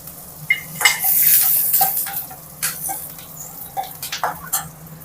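Curry leaves and ginger roasting in a pan for coconut chutney: a faint sizzle under repeated, close clinks and scrapes of a spoon against the metal pan.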